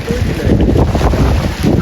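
Strong wind buffets the microphone at a hill viewpoint in Matheran during a spell of rain, a loud, rough, gusting roar that swells and dips throughout.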